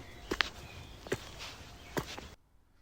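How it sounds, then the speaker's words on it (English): Footstep sound effect for a bird in the forest game Alone in the Forest, recorded as light tiptoe steps outdoors: three soft, crunchy steps spaced about a second apart, close and fairly quiet, ending in silence. "So here's the footsteps of the bird."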